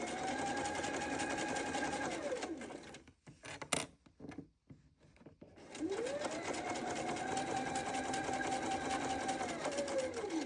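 A sewing machine runs steadily stitching fabric for a sew-together bag, humming at an even pace, pausing with a few clicks and handling sounds, then starting up again and running continuously.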